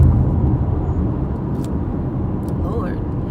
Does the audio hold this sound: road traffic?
yes